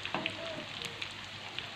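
Potatoes frying in oil in an electric pan, a steady close sizzle with a few faint pops and crackles, continuous and moderately quiet, with no talking.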